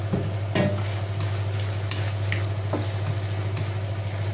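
Mince meat cooking in a pan, a steady low frying sizzle under a constant hum, with occasional sharp clicks and scrapes of stirring, no one talking.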